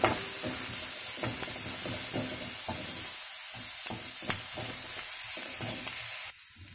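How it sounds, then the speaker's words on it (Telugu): Chopped onions sizzle and fry in a pan for an egg curry as ginger-garlic paste goes in, a steady close hiss with occasional stirring scrapes and taps. "ఇలా వేయించి అల్లం వెల్లుల్లి వేద్దాము"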